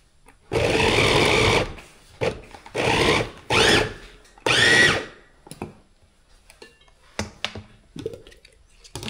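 A Simplus electric food chopper chopping santol fruit, four loud close motor bursts of uneven length with short gaps, followed by quieter clicks and handling noises.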